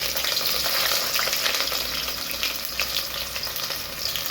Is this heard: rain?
no